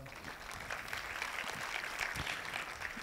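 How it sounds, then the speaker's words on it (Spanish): Audience applause for a volunteer named Marcos at a magic show, a steady, moderately faint wash of clapping lasting the whole stretch without pause. "Marcos, un aplauso para Marcos, por favor."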